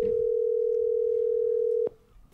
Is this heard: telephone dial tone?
yes